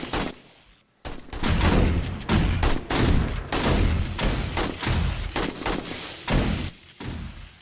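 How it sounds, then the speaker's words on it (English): Shotgun turrets in the video game 7 Days To Die fire in rapid, heavy repeated blasts after a brief pause, loud, dense and close, with no speech. "Shotgun turrets sure are putting in some work."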